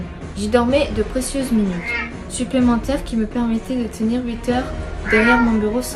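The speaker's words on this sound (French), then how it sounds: "Excusez-moi, c'est mon chat." A house cat meows several times in quick succession, its cries rising and falling close by, mixed in with continuous French narration that runs through the whole stretch.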